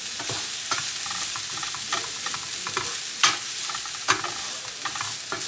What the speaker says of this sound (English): I love the smell of sauteing onions.